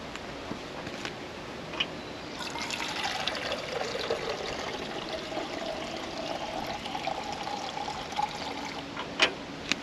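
Water poured into a container at a wild camp beside a Land Rover 110 overlanding truck, a steady close trickle with a rising fill tone over about seven seconds, ending in a few small clinks.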